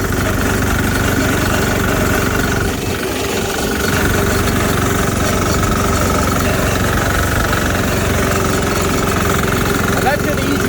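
Diesel engine swapped into a Sears tractor idling with a steady, loud knocking rumble and no exhaust stack, vibrating constantly close by while someone talks over it.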